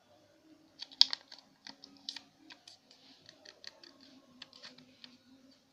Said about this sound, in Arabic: نضغط اهم حاجة على الكريسس دي